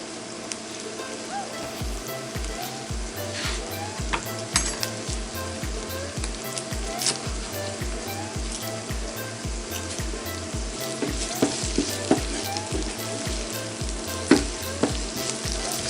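Vegetables frying in a pan make a steady close sizzle with occasional stirring clicks, over a regular low pulsing hum in the background.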